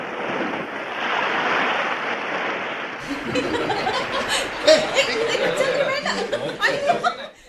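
Sea waves as a sound effect in a Malayalam radio drama: a broad, steady surf wash that fills the opening seconds alone, then continues beneath voices speaking and laughing.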